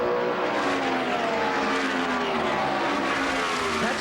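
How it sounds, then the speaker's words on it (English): IndyCar race cars at Phoenix in 1997, several engines screaming close together in a dense, continuous high-pitched whine with shifting pitch as the pack passes. "there's a lot of cars running real close with each other."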